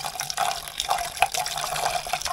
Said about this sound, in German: Ich muss da einen Schuss Wasser reinsetzen, damit das gekocht wird